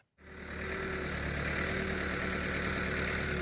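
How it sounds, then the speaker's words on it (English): A backhoe's diesel engine starts up and settles into a steady, continuous rumbling idle, loud and close with no talking. "the backhoe is finally fired up. Man, that sound, the rumble of the diesel"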